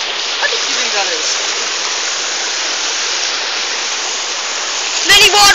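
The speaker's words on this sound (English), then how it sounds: "Many waterfalls" Constant rushing roar of a waterfall close by, steady and loud, with a brief voice and splash near the end.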